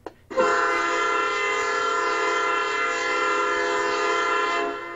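LokSound V4.0 decoder simulator playing a train locomotive sound set: a steady, loud engine drone with sustained tonal layers begins just after the start and holds evenly throughout, with no voices.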